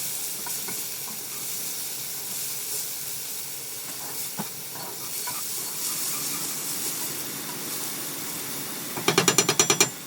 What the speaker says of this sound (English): Now we want to be careful as we turn the pan, as we turn all the ingredients.